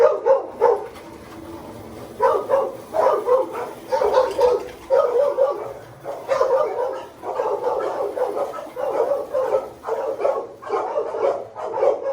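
A dog barks in a shelter kennel in repeated short bursts at a fairly even pace, clear and moderately close, with no people talking over it.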